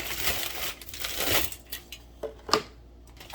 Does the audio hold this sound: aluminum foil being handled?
yes